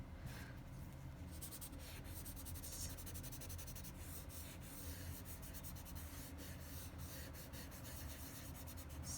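A finger rubs and blends pencil shading on paper, a soft continuous back-and-forth scrubbing that stays faint and close throughout.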